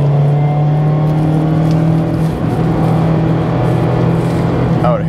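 A 2002 Mazda Miata SE driven hard on twisty roads gives a steady engine drone with a strong low hum, close and loud, with slight shifts in pitch and a brief squeal near the end.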